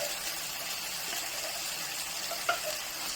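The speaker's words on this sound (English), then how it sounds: "Give it a good old stir around with the onions." Minced meat and onions frying in a pan give off a steady, soft, fairly quiet sizzle. A light knock or scrape from stirring comes near the end.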